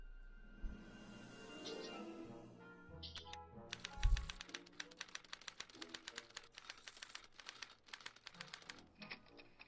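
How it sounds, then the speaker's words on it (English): Typewriter in the Back to the Future adventure game clattering in a quick run of sharp keystrikes, following a hum and a clunk, fairly close and alone with no talk. "What's this typewriter do again?"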